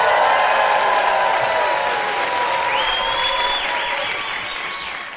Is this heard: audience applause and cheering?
yes